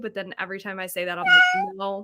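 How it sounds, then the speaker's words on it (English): A cat meows loudly and close by, a drawn-out rising cry that overlaps someone talking indoors during a casual reading session. "I wonder if I can turn, like, the sound off for that cat because it terrifies me."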